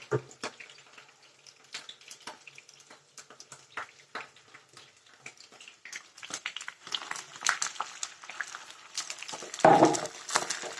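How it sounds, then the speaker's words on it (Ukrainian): A cup of water is poured into a sizzling pan of fried vegetable base for borscht, sputtering softly before a louder splash and hiss near the end. "И до цієї зажарки добавляю еще водичку, чашечку."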